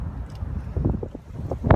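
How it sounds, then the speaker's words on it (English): Chilly wind blowing outdoors, a steady low rumble of gusts buffeting the microphone with a couple of louder bursts near the end. "But it's chilly out here and windy and kind of unpleasant."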